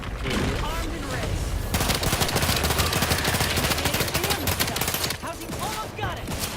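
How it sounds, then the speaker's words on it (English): Sustained rapid machine-gun fire in The Outer Worlds 2, a dense rattling burst lasting a few seconds and framed by louder mixed game sounds before and after. "Oh yeah, I'm glad you fixed the machine gun."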